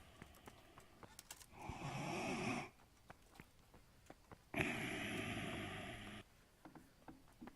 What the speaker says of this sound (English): Is this guy, like, snoring right now?